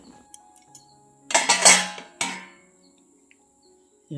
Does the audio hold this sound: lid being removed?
yes